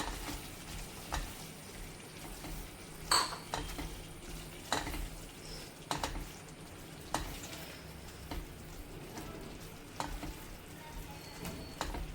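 Boiled kabuli chana being stirred into a masala frying in a pan, with a steady sizzle underneath and a spoon clinking and scraping against the pan every second or so.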